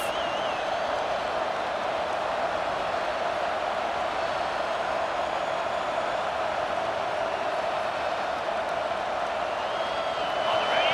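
Football stadium crowd at a Kentucky vs South Carolina game keeps up a loud, steady roar for the whole stretch. The dense wash of noise swells slightly near the end.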